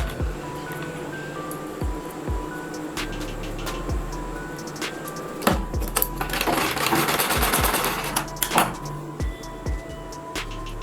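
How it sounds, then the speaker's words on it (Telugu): A sewing machine stitches a model blouse in short bursts of fast mechanical chattering, close by, with brief pauses, thumps and clicks between runs and a longer, denser stretch of stitching in the middle. "ఇలా దగ్గరగా కుట్టేసుకోవాలి 5 మొగ్గలోని."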